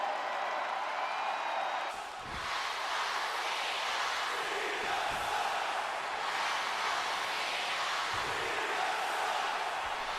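A crowd in the WWE 2K22 video game reacts to John Cena with a continuous, even roar of cheering and chanting that stays loud throughout.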